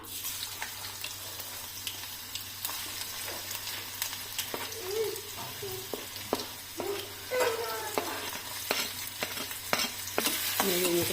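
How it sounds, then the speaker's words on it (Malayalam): Finely chopped ginger frying in hot coconut oil in a pan gives a steady, close sizzle, broken by sharp scraping clicks as it is stirred, growing livelier toward the end. "കുനുകുന അരിഞ്ഞ് ഇഞ്ചി ഇട്ട് കൊടുക്കാം."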